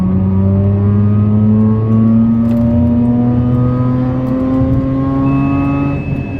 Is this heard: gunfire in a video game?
no